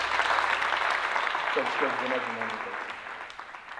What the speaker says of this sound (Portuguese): Eu peço uma salva de palmas para